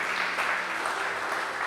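A church congregation breaks into loud, close, continuous applause during a sermon, a thick wash of many hands clapping at once with no voices heard.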